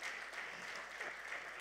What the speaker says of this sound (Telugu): అందరం గట్టిగా చప్పట్లు కొడదామా?